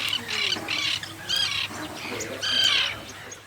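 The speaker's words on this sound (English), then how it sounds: "This is a common tern," A common tern gives a series of harsh, grating calls in short bursts, several separate squawks spaced irregularly, fairly close and clear over a quiet background.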